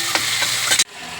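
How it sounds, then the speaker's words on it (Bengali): Onions frying in a pan with whole spices for a quick chicken curry, a loud close hissing sizzle with a few stirring scrapes, cut off abruptly near the end. "দিয়ে এবার এই পেঁয়াজগুলো আমি ভেজে নেবো।"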